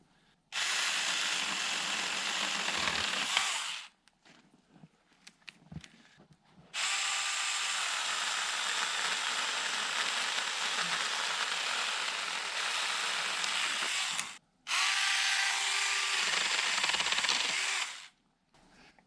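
A Saker cordless mini chainsaw cutting through wood, a loud, steady high-pitched whine in three long runs separated by brief pauses, close by with no talk.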